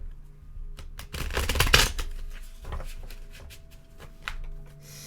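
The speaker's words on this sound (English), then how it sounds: "I'm going to shuffle the cards." A deck of playing cards is shuffled up close, giving a rapid riffling burst of papery clicks that peaks midway, followed by scattered lighter taps, with no talking.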